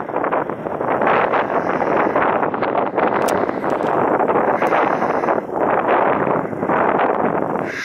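Strong wind buffets the microphone on an exposed coastal hilltop along a hiking trail, a loud, continuous roar that gusts and swells for the whole stretch with no voices heard.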